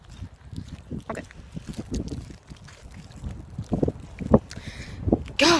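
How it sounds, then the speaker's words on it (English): Strong wind gusting across the microphone outdoors during a snowfall, low rumbling buffets that swell louder toward the end. "Gosh, it's windy."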